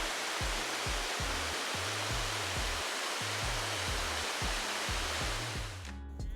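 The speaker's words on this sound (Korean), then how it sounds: "용추폭포는 높이 10m 정도의 자연폭포로 아래로 시원하게 저수지물이 떨어지는 모습을 볼 수" Yongchu Falls, a natural waterfall about 10 m high spilling from Uirimji reservoir in Jecheon, gives a dense, steady rushing roar. A low rhythmic musical beat plays underneath, and the sound cuts off abruptly near the end.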